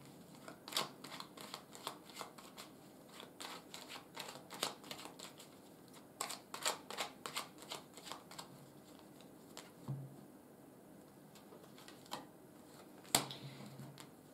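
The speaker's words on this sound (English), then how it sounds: "I want to take a card for them now." Tarot cards being shuffled and drawn, a quiet, steady patter of soft card flicks and riffles over about fourteen seconds with a few sharper snaps, no talking.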